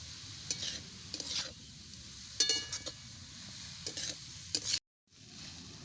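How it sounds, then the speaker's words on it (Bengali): Salted carrots for carrot halwa fry in a pan and are stirred with a metal spoon. A faint, steady sizzle runs under scattered scrapes and light clinks, then the sound cuts out briefly before the sizzle returns. "দশ মিনিট সময় নিয়ে গাজর ভেজে নেবো"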